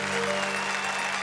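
Audience applause for poet Surendra Dubey at a stage poetry event, a dense, steady wash of clapping that stays loud and unbroken from start to finish.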